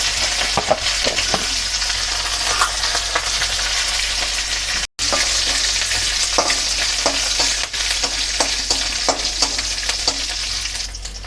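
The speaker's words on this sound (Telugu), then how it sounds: "జీరా రైస్ కాబట్టి జీలకర్ర కొంచెం ఎక్కువనే వేసుకుందాం కరివేపాకు ఒక ఎండు మిరపకాయ" Cumin seeds, curry leaves and a dried red chili frying in hot oil for jeera rice give a loud, continuous crackling sizzle with scattered stirring clicks and a momentary break partway through.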